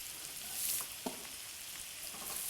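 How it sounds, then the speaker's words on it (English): Onions with shards of peeled fresh ginger sizzle steadily in a pan, a soft continuous frying hiss with occasional light scrapes and taps as they are stirred, fairly quiet and close. "just cook, stirring for a while so that the flavours go deep into the onions"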